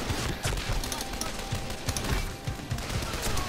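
Gunfire in the World War II strategy game Men of War: Condemned Heroes, a steady run of rapid shots and bursts rattling continuously at moderate loudness, with no talk over it.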